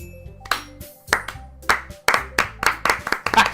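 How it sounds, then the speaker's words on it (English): Single hand claps in the video game Doki Doki Literature Club land one by one at a slow, deliberate pace, gradually picking up and growing denser toward the end. "I start a slow clap."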